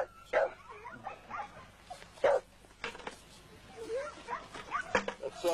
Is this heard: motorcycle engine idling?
no